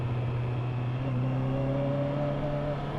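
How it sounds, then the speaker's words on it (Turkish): A Honda CB650R naked motorcycle being ridden, its engine droning steadily up close and rising in pitch as it accelerates, under a constant rush of wind. "Şu an sürdüğüm motor CB 650R"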